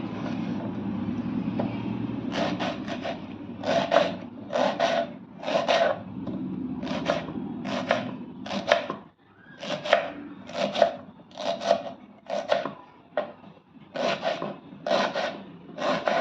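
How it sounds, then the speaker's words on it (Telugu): Onion being chopped on a board for a Telugu garlic chilli dish with gokarakaya: a steady run of crisp, close knife strokes in quick bursts, some soft rubbing noise underneath and no talking. "ఈ లోపల మనము ఇక్కడ ఉల్లిపాయ కోసుకుందాం"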